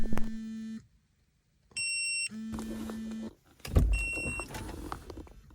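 An electronic fishing bite alarm sounds during an overnight burbot fishing trip on Lake Superior: loud, steady tonal beeps in several bursts separated by short gaps, with some rustling noise between them.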